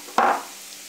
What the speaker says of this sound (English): I'm going to add a teaspoon of cumin seeds.